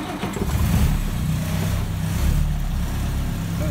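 Classic Land Rover 80-inch engine cranked and running, a loud, close, continuous low rumble with a steady throb throughout, no speech.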